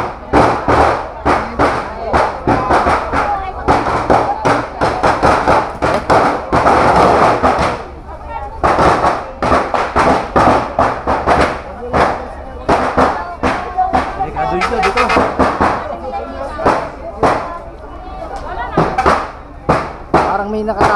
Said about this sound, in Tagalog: Parang may nakatago pang mga paputok doon.